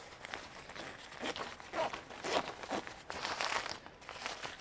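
A fabric Eagle Creek packable waist bag being unzipped and handled, soft crinkling and rustling with short scratchy zipper pulls, close and quiet, with no speech.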